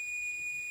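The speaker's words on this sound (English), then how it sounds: "I think it's got 2 buzzers in it." A Gent Vigilon compact fire alarm panel's buzzer holds a steady, high-pitched electronic tone, unbroken and fairly quiet, with no other sound around it.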